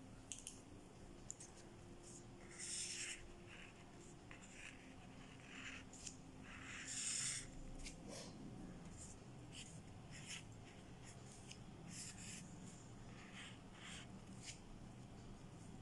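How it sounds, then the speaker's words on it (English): A pen drawing an anatomy diagram of the temporalis muscle on paper, faint scratchy strokes coming in short bursts, with quiet room noise between them. "For that we will draw the diagram again."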